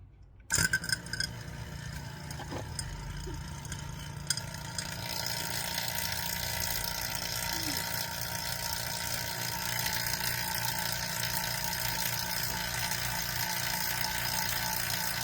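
A 4.5 CFM vacuum pump for HVAC work starts up and runs with a steady, dense mechanical drone, loud and close, after a brief quiet start and a few clicks.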